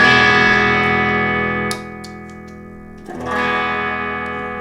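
An electric guitar plays through a TC Electronic MojoMojo overdrive pedal with the drive turned down, sounding clean: a sustained chord rings and decays, then a second strummed chord rings out, loud and alone.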